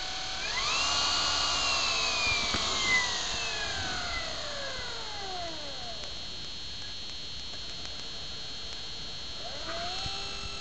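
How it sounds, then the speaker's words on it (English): A large electric motor fed by a 52.9-volt battery spins up, its high whine climbing and sliding in pitch, then holding steady as a loud continuous drone with a slight rise again near the end. "We go ahead and bring the motor online."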